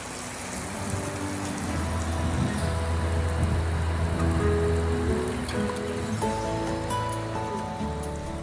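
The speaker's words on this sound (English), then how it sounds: "then we water the bed" Water sprinkled gently like soft rain onto a garden bed of loosened soil, a steady close hiss of droplets spattering on the surface, continuous and moderately loud with a faint tonal hum in the background.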